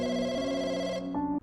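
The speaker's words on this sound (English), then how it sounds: "We hear a phone ring and we go answer it." A telephone bell rings in the Chinese folk horror video game Firework, a steady electronic tone about a second long, then a brief higher chime before cutting off; no talk.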